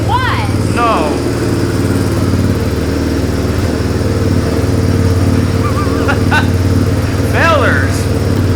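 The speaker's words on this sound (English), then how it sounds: "So I can hear a little fluctuation in the idle." A Honda engine idling close by with a slight, uneven fluctuation, its steady chug running throughout while voices talk over it.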